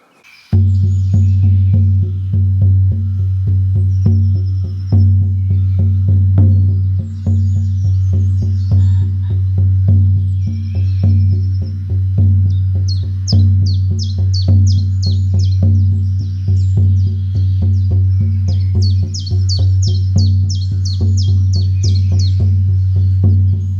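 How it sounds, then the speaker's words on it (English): A 15x17-inch buffalo skin shamanic drum struck with a soft beater gives a steady, muted low boom, beats rolling quickly and evenly without pause, with faint bird chirps high above. "I love the muted, gentle sound of the soft beaters."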